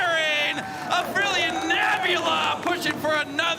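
Excited shouting and cheering from a player at a Clash of Clans Challenge finals esports event, a loud voice whooping in bursts over a busy crowd and ongoing commentary talk.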